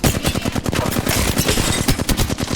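Rapid automatic gunfire in the video game Apex Legends rattles nonstop in dense, loud bursts, sharp shot after shot close up with no pause.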